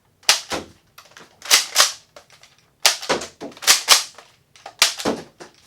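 A Nerf blaster firing foam darts in quick succession, sharp snapping pops in pairs and small clusters with faint mechanical clicks between, close and loud with no talking.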